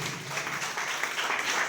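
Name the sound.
audience clapping loudly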